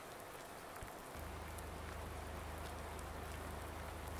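Steady rain in Farming Simulator 19 on the Felsbrunn map, a dense, even hiss of drops on surfaces with a low continuous hum joining after the first second, no talk.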